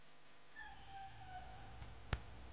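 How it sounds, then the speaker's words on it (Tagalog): Chickens cluck faintly in the distance, a few soft calls rising and falling, followed by one sharp knock. "May mga manok dito sa bahay namin."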